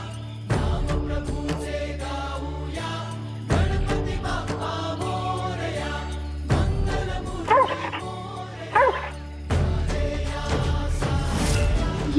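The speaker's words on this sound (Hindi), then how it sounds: "ये भौंक रहा है" A dog named Durga Prasad yips and whimpers in short, repeated bursts, fairly close, over a backdrop of loud dramatic music that swells and cuts in sections.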